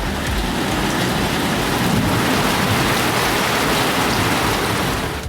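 Heavy rain with strong gusting wind during a storm in the Madurai and Theni districts of Tamil Nadu, a dense, loud, continuous wash of rain and wind noise throughout, with no voices.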